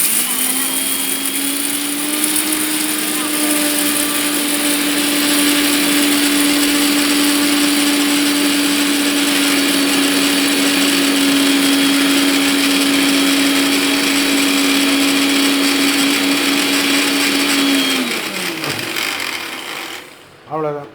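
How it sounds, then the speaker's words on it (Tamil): An electric mixer grinder grinds ingredients for a traditional dish with a loud, steady high whine that holds for about eighteen seconds, then winds down and stops, followed by a brief clunk. "ஒன்றையும் அரைச்சி போடணும்."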